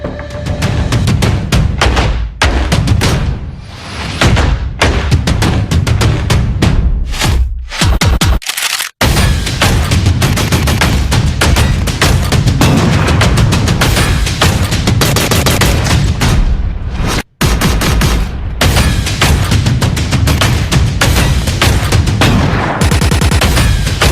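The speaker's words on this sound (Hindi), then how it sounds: "सूर्य नारायण के घर गोलियों की तड़तड़ाहट से गूंज उठा।" Bullets fired indiscriminately at a house by militants, loud dense bursts of gunfire going almost nonstop with only a couple of brief gaps, heard close.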